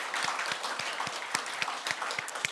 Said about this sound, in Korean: 하나님께 감사의 박수를 올려드리겠습니다